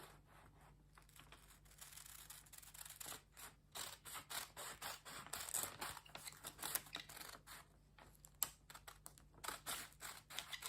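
Scissors snip through fabric while a corset top with a basque waistline is cut out, giving quiet bursts of rapid crisp clicks and cuts with short pauses, close and faint, with no talking.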